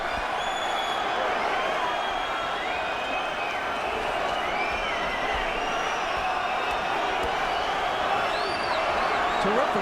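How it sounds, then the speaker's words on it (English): Boxing arena crowd at the Golota vs Byrd heavyweight fight, a dense, loud roar of cheering and whistles sustained throughout, with scattered shouts and whoops rising from a packed house. "Just listen to the crowd."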